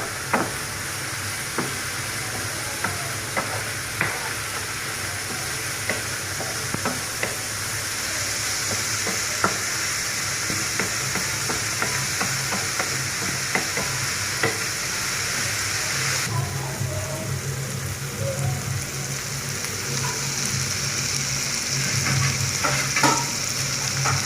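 Bitter gourd (karela) sizzling in a pan while being stirred, a continuous dense frying hiss with scattered spatula clicks and scrapes, close and steady throughout.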